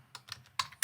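Someone types on a computer keyboard, a few separate clicky keystrokes with uneven gaps between them, close and clear.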